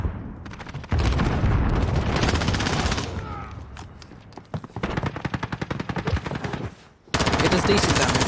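SKS rifle gunfire in Call of Duty: Modern Warfare, loud sustained bursts of rapid shots close up, with a brief lull before the firing resumes hard.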